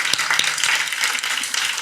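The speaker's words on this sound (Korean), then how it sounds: "우리 부모님께 영광의 박수 한번." A church congregation applauds to honour the parents, a loud, full burst of many hands clapping in a dense, even wash with a few sharper individual claps.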